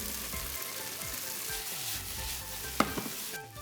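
Sauce with oyster sauce with scallop, chili and spring onion bubbles and sizzles in a pan, a close, continuous crackling simmer broken by a few sharp clinks of a utensil near the end.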